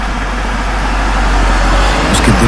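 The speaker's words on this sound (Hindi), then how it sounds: "उसने गाड़ी की रफ्तार बढ़ा दी।" Car engine droning steadily as the vehicle speeds up on a foggy road, a loud low rumble with road noise that swells slightly over a couple of seconds.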